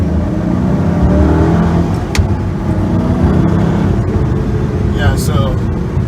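A 2005-2006 Ford GT's supercharged engine drones loud and steady as it accelerates in second gear through traffic, with a rising whine, and a voice talks over it.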